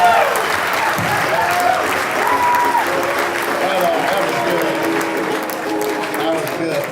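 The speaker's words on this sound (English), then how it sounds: "Give a good round of applause, guys" An audience at a comedy night claps and cheers in a steady, loud burst of applause that fills the room and holds for several seconds, with crowd noise mixed in.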